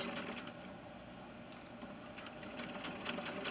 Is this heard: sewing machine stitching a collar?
yes